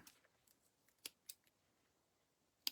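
Scissors snip thread during a craft project, giving a few sharp, quiet clicks spaced through a near-silent moment, with a crisper cut at the end.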